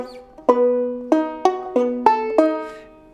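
Banjo played with an alternating thumb picking pattern on the tune Freight Train, a series of bright plucked notes with sharp attacks and ringing decays, clear and close with no talking.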